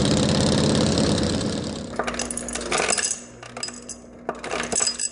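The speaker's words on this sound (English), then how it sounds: "This is how you ride a motorcycle that has a lot of horsepower." A high-horsepower motorcycle engine runs loud and close, a steady dense roar that eases after a couple of seconds into choppier bursts of revving and mechanical clatter.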